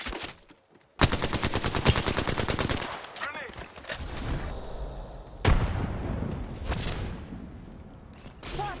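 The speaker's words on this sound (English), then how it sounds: "I'm spotted, taking fire." Rapid automatic gunfire rattles in bursts during an Apex Legends match played as Lifeline, with a brief lull then a sharp boom and a renewed sustained volley, loud and close.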